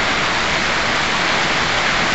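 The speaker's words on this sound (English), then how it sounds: "And here we are, enjoying the rain" Steady rain pours down around an open porch with no railing or walls, a dense, even hiss filling the whole moment, close and loud with no voices.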